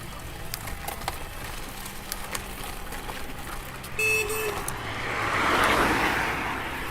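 A car honks several times as it passes road cyclists on a rural road in Vietnam, a short cluster of horn toots rising over steady traffic and wind noise.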